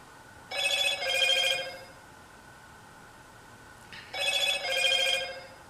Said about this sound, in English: Pardon my phone.